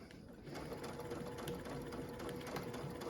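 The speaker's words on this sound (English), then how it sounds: "I am going to do a back stitch and then just stitch and remove clips as I go." A sewing machine runs steadily, stitching a pillow flange onto a quilt, a fast even mechanical whir that starts up after a brief pause and holds at close range with no talking.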